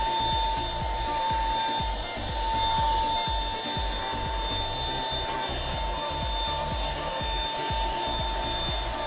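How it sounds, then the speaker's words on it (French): A cordless Ultenic U10 stick vacuum runs steadily and close, its loud motor whine carrying a constant high tone while the brush head rubs and scrapes over the floor in an uneven rhythm, with no talking. "L'aspirateur passe vraiment partout sans difficulté."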